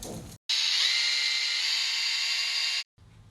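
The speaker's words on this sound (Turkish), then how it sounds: "Delme işlemini gerçekleştiriyoruz." A power drill with an 8 mm masonry bit whines steadily for about two seconds as it bores into a concrete wall, loud and close, starting and stopping abruptly.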